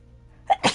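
A single short human sneeze, a quick inhaled catch followed by a sharp burst, close by in a quiet room.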